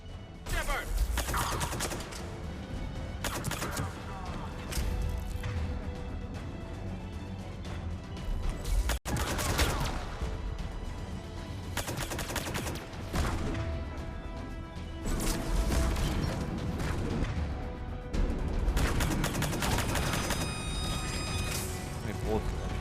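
Gunfire in the video game Mass Effect 3, repeated bursts of shots and crashing impacts scattered across a busy combat mix, with a voice talking intermittently over the action.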